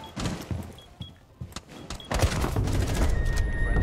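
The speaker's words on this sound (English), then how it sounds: "Oh, he's AK-12. I hear it." AK-12 rifle gunfire in Rainbow Six Siege, scattered sharp shots at first, then a loud, dense volley with mechanical whirs and clatter mixed in, with no voices.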